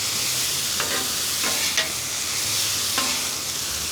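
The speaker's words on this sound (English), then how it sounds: "Teriyaki on the meat. Stir that around." Teriyaki-coated meat and noodles stirred on a Blackstone griddle, a loud continuous sizzle broken by a few sharp spatula scrapes, close up with no voices.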